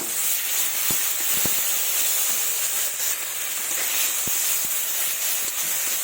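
Ground paste of dried red chilli, ginger, cumin and chopped garlic, stone-ground on a sil-nora, hisses and sizzles steadily as it hits a hot pan, a loud continuous spray-like crackle with a few sharp pops, no talking.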